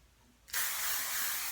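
Finishing hairspray hisses from an aerosol can onto curls in one steady, close, loud burst lasting about a second after a quiet start.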